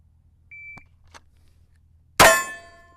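A short electronic shot timer beep during shooting practice at 10 yards, followed moments later by a single loud metallic clang that rings out and fades.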